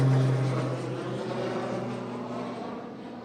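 A Pilatus PC-12 turboprop passes at an airshow at Newcastle International Airport, a steady propeller drone with a fading tone as it moves away, heard alone without talk.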